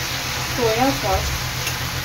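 Prawn chilli sizzles as it is stirred in a pan with green chilli sauce, red chilli sauce and soy sauce, a soft steady frying hiss under a speaking voice.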